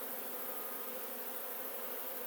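Honeybees swarm around an open lilac-colored beehive in a Piedmont yard, a dense, steady buzz that fills the air close by with no voices.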